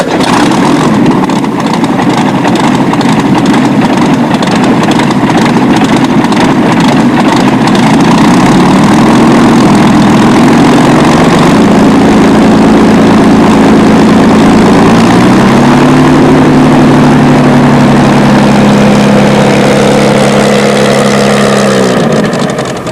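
A privately owned two-seater light aircraft sits with its engine idling, a loud, continuous droning rumble heard close up that holds steady, then shifts pitch slightly in the later stretch before settling.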